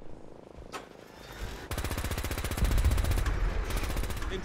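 Rapid automatic gunfire in the video game Fallout 4, a dense rattling burst that starts after a brief lull and keeps going loudly to the end, with heavier booming impacts joining partway through.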